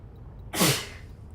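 A single sharp sneeze bursts out once, close and fairly loud, during a quiet moment of a game stream, followed by brief stillness.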